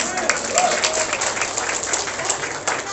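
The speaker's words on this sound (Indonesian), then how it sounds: "Tepuk tangan." A church congregation applauds during a Sunday worship service, a steady wash of clapping over about three seconds, with a voice faintly present underneath.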